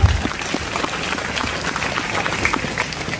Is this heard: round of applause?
yes